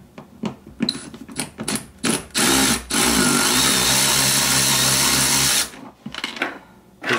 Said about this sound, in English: remove this panel is unscrew the T25 screw that's in here.